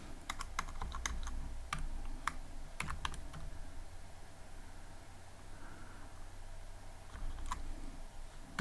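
Someone typing on a computer keyboard, quick scattered keystrokes in short bursts over a low steady background hum, close and clear, with no talk.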